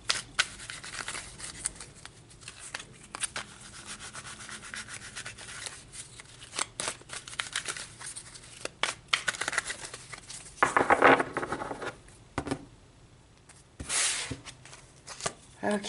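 Tarot cards are shuffled by hand in repeated brisk riffles and rubbing swishes, close and crisp, with short pauses between bursts and no talking.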